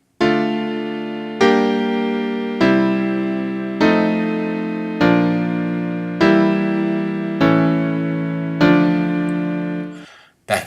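A secondary dominant seventh chord is struck repeatedly on a sustained keyboard-like instrument, eight evenly spaced attacks each decaying, followed by a short pause and a faint final sound.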